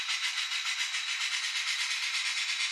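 A model steam train runs on a home layout after starting out from its train yard, giving a steady, fairly close hiss with a faint rhythmic pulse and no voices.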